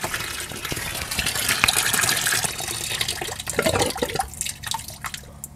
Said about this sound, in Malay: Jadi tuan-tuan boleh dengar bunyi siphon stop.